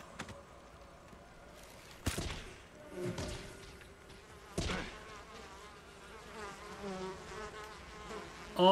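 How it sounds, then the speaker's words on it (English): Bees shot at the player in Ghost of Tsushima Legends mode swarm and buzz, an irregular droning hum broken by several sharp thuds and impacts from the game. "you shot bees on me"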